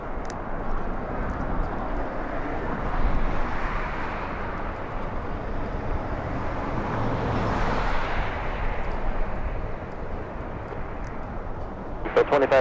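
A Delta airliner lining up at LAX gives off a steady, broad jet-engine roar that swells and fades in the middle, heard from a distance with faint voices mixed in.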